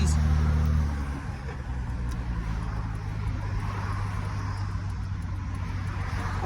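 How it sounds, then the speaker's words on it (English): Many cars passing on a busy road, a steady dense traffic rumble with low engine drone, continuous and fairly loud throughout, with no clear talk over it. "Look at all these cars"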